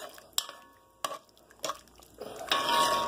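Spoon knocking against a pot of beef tips stew as it gets stirred, a few distinct clanks spaced about a second apart, then a softer scraping swirl, close and fairly quiet with no talking.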